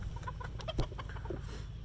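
Black Wyandotte cockerels cluck in a quiet pen with soft, scattered, irregular calls, including one sharper call near the middle, all fairly close and low in level, without any talk.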